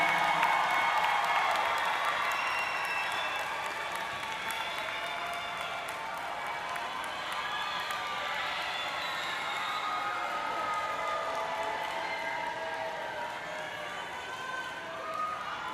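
A large crowd at a university commencement ceremony gives sustained applause with scattered cheers and whoops, heard from a slight distance and continuing throughout.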